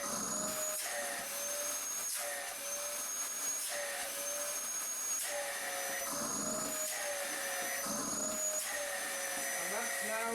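Dyson DC05 cylinder vacuum cleaner running steadily after repair, a loud continuous motor whine with a high sustained tone and slight pitch wavers throughout.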